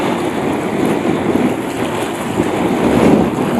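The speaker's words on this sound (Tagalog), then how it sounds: "Tsaka hangin, malakas ang hangin guys," Strong wind roaring across open sea around a small boat, a steady broadband rush with waves churning underneath, close and loud from start to finish.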